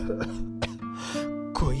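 A man coughs harshly several times in short bursts, spread across the moment against a quiet background, his lungs irritated by heavy smoke from the factory where he works from morning to evening.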